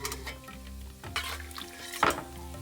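Cooked mutton going into a pan of sautéed onions and garam masala, stirred with a utensil that scrapes and clinks against the pan over a soft sizzle. Close and fairly quiet, with a sharper knock near the end.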